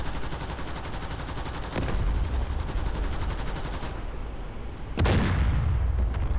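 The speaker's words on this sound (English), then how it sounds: "if I shoot him in the rear quarter here" Rapid machine-gun bursts in DCS World video game combat, a dense rattling stream of shots with a heavier boom near the end, loud and close with no talking.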